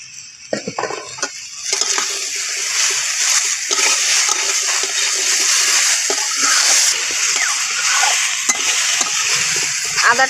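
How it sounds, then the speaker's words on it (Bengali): Ginger-garlic paste, chopped tomato and turmeric sizzle loudly in a hot pan, with a continuous crackling hiss and frequent spoon scrapes and knocks as the mixture is stirred up close. "আদাটা দিয়ে কিছু সময় নাড়াচাড়া করে নিয়েছি।"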